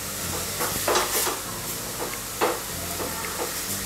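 Chopped onions frying in a pan for Jodhpur pyaj kachori: a steady, close sizzle with soft stirring scrapes and occasional spoon clicks against the pan.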